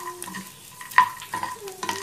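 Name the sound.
food frying in a hot pan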